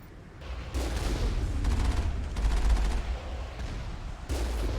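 Sustained gunfire pours out in rapid bursts while turrets are shot down in the Mass Effect video game, a steady rattle with heavier thumps and brief lulls, no voices over it.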